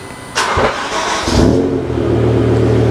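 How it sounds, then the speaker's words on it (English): A BMW E60 M5 cranks and fires up nearby: a brief starter whir, then the engine catches with a loud rev flare and settles into a steady, deep idle hum. "Dave, can you start the car up?"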